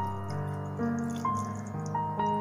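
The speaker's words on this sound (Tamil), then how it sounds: "அதில் வந்துட்டு ஒரு 3 ஸ்பூன் தண்ணி ஊற்றிக்கோங்க." Water trickles and drips into a mixer jar, three spoonfuls for tomato halwa, and faint steady tones ring underneath for a couple of seconds.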